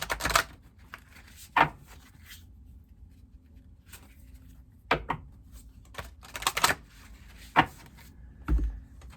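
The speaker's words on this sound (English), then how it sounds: "Give me a moment while I shuffle." Tarot cards shuffled close by in a quiet room, several short crisp riffling bursts separated by pauses, with no talking.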